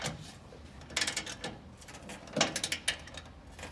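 A wrench tightens a lower control arm bolt and nut during an SPC control arm install, making close, faint clicking and ratcheting clusters in several short bursts.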